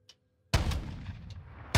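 A sniper rifle fires in the Warzone video game. One sharp, loud crack rings out after a short near-silence, then a second shot lands moments later as the first echo is still fading.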